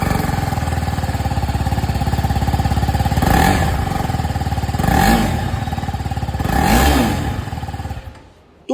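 A 2024 TVS Apache RR310 motorcycle idles with a steady, loud, close exhaust thrum, broken by three short throttle blips that rise and fall before the engine cuts off at the end.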